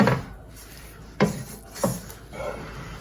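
Churro dough stirred in a bowl, with three or four distinct scraping knocks of a utensil against the bowl at an irregular pace, close and moderately loud.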